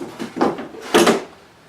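The sawdust drawer of an old saw, recently run for the first time in about 20 years, is opened or closed with a few short wooden knocks and a scraping slide, close and fairly loud, with no talk.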